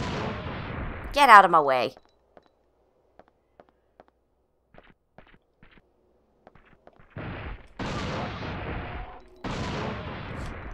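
An anti-tank rifle firing in the video game Dino Crisis 2: heavy booming shots come near the end, and a person talks briefly at the start.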